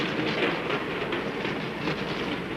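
A train climbing steeply through the Andes toward a high plateau, its cars rumbling with a steady rolling roar and faint rhythmic wheel clatter on the rails, continuous and close.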